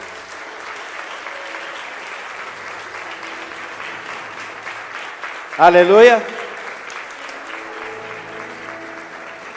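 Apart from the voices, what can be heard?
congregation applauding in church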